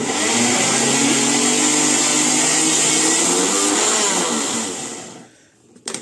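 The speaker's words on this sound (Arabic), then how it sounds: "فبطحنها في المطحنه بتاعه الخلاط" A blender's grinder attachment grinds food loudly and steadily with a high whine for about five seconds, then winds down and stops.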